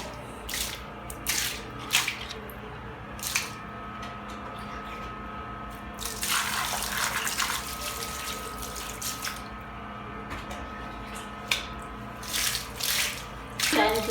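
Running water rinses scrub off the legs, a steady splashing stream with louder gushes midway and occasional drips, heard alone without talk.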